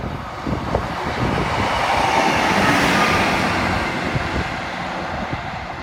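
A single-carriage Class 153 diesel train runs through Exeter St Thomas station without stopping. A loud, close rush of wheels and rail noise builds to a peak, then eases, with clattering along the track.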